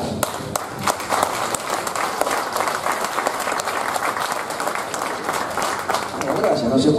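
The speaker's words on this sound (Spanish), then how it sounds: "no sé por qué aplauden" Audience applause at the closing ceremony of a political training course, steady dense clapping throughout that swells slightly near the end, with voices mixed in.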